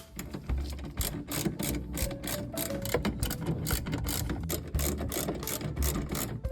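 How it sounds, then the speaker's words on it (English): Socket wrench ratcheting to loosen screws on a Mitsubishi L300 headlight, a rapid run of close, crisp clicks in quick repeated bursts, with no talk. "Now all we need is our socket wrench. Set it to loosen, and you can loosen everything here"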